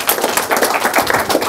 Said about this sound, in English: Let's give Harry Charlemagne a big clap here.